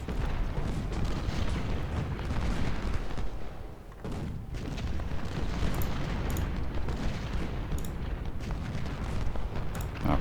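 Cannon fire in the Civil War strategy game Ultimate General: Civil War, a continuous rumble of artillery booms and musketry blending into a dense, loud battle roar with no pause.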